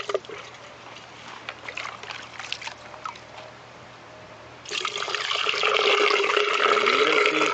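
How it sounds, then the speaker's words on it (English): Water running into a constant-head permeameter cylinder in a soil lab, a soft trickle at first that swells into a louder, steady gushing fill midway through. "So let us fill this arrangement with water."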